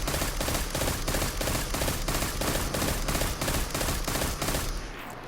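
Pulse rifle in the Destiny 2 video game firing rapid bursts to empty a magazine: loud, close, evenly spaced gunfire clusters repeating for about five seconds, then stopping abruptly.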